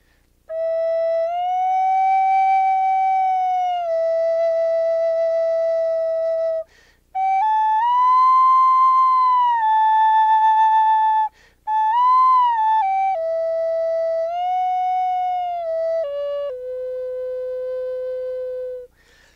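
Spirit flute played with a finger-sliding technique: clear, pure sustained notes that bend and glide between pitches, in three phrases separated by short breaths, close and solo.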